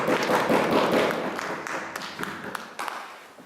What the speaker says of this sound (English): I would like you to have a round of applause.